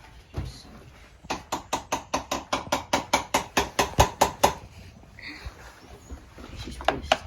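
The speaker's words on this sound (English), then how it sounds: "I'm just gonna use a hammer to tap it very lightly" Light hammer taps on the stuck cylinder of a KX85 motorcycle engine during a rebuild, a steady run of about twenty close, sharp metallic knocks at an even rhythm, followed by quieter clinks and handling noise.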